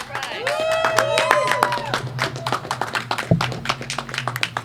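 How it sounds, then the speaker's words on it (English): An audience at a flag-raising ceremony for domestic violence awareness in Paterson, New Jersey, applauds an honoree with dense, quick clapping, while voices cheer and call out over it and a speaking voice briefly cuts in. "please join me in a round of applause for our honoree, Francisco Nunez"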